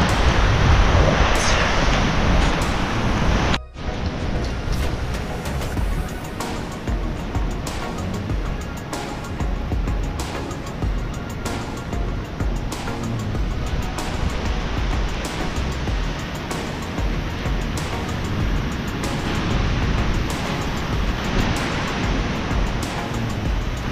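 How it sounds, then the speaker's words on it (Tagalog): Strong typhoon wind and heavy rain during Typhoon Uwan on Burias Island, a steady loud roar of gusts and downpour that continues without pause, with no voices. "Dahil lakas ng hangin tapos ulan."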